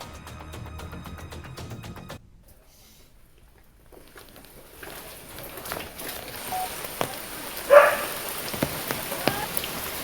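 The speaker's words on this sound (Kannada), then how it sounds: "ಶಿವಮೊಗ್ಗ ಜಿಲ್ಲೆಯ ಹೊಸನಗರದಲ್ಲೂ ಕೂಡ ಧಾರಾಕಾರ ಮಳೆಯಾಗ್ತಿದೆ" After a quiet start, heavy torrential rain sets in at Hosanagara, Shivamogga district, Karnataka, pouring steadily, drumming on surfaces with occasional louder splashes and knocks.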